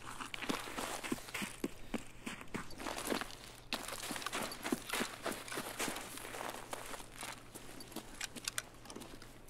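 Game footsteps in Escape From Tarkov: a steady run of soft, evenly spaced steps over a low constant background hum, with no talking.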